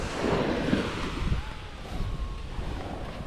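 Calm sea waves wash onto a shore in a steady, fairly close wash, with some wind rumble against the microphone.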